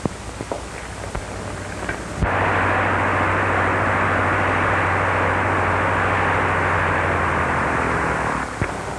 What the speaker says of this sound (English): That's Jim Lofton's plane, isn't it?